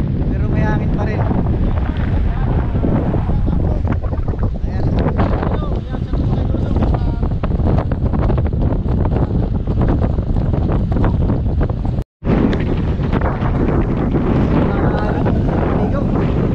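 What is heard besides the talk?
wind after a typhoon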